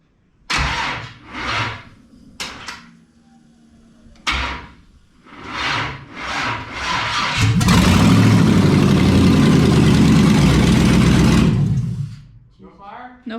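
A race car engine with a push button start cranks after voices talk, catches, and roars loudly and close for several seconds before cutting off.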